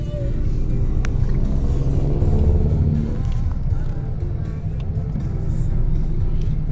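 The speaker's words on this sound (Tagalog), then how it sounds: "Jeepney with the lights." A jeepney on the road at night on Service Road, Alabang, its engine giving a steady low rumble close by with continuous traffic noise and faint clicks over it.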